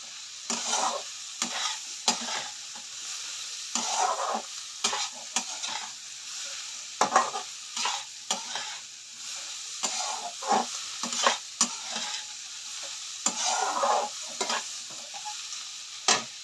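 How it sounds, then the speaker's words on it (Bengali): Bitter gourd (karela) frying in a pan is turned over and over with a spatula. Each stroke makes a scraping sizzle, repeated in quick bursts over a softer background hiss. "ভালো করে নাড়িয়ে চাড়িয়ে দিই, তারপরে জল দিয়ে ঢাকা দিয়ে দেবো।"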